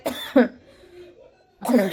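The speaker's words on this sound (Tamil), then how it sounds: "இருமல் வேற வருது" Two short, harsh coughs close by, followed by a quiet pause and then another burst of coughing.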